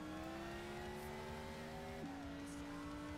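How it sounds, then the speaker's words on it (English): A race car in Gran Turismo 6 on the Ascari Race Resort track accelerates with a steady rising engine drone that shifts pitch once midway, faint and continuous with no voice. "I am accelerating because I need to, but I'm not going full throttle"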